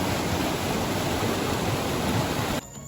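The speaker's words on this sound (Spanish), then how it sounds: "llegamos a la cascada o la poza que le dicen la del Papayo" Steady, dense rushing of a waterfall at the Saltadero de Salamanca pool near Santiago, loud and continuous throughout, then dropping sharply near the end.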